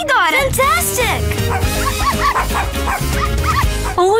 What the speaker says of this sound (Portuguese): Isso parece um latido.